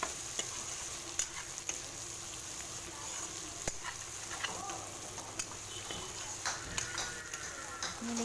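Duck meat being stirred in a pan with turmeric and ground black pepper, giving a steady low sizzle broken by soft, irregular scrapes and clicks of the spoon, close and fairly quiet.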